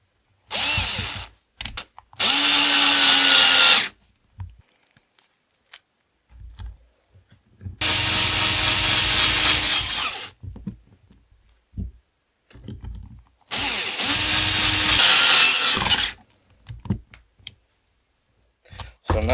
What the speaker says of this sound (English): So now I'm gonna go in with my ratchet and get all of these done.